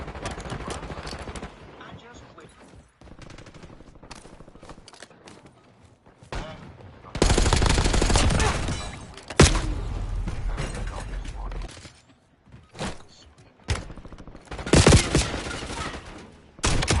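Bursts of automatic gunfire ring out during target practice in the Call of Duty Warzone video game, with loud volleys separated by quieter stretches of game ambience and mechanical clicks.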